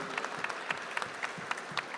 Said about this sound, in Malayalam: ഈ അവസരത്തിൽ നിങ്ങളെല്ലാവരും ഒരുപാട് കൈയടിച്ച് പ്രോത്സാഹിപ്പിക്കണം